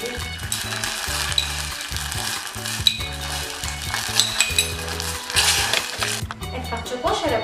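An anchovy pasta sauce for a Palermo-style dish fries in a pan with a close, continuous sizzle. Light utensil clinks and scrapes sound over a steady low rhythmic backdrop.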